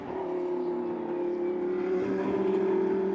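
Lamborghini Super Trofeo race cars at Barber Motorsports Park in Alabama, a steady loud engine drone with a sustained tone that rises slightly in pitch as the cars push on, continuous and without speech.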